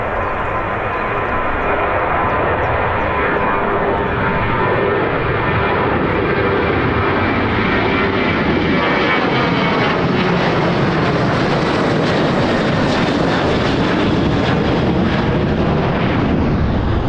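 A Saudia jet airliner departs Birmingham airport, its engines a loud, steady roar that swells and grows harsher as it climbs out, with no voices over it.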